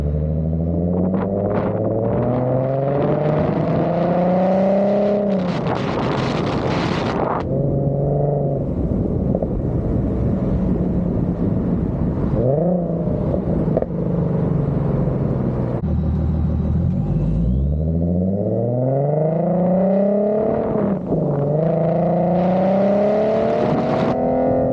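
Car engine heard from a vehicle-mounted Insta360 X3 with noise mufflers fitted: rising and falling revs through several gear changes, a steady rumbling drone with some road noise and whir, no talking.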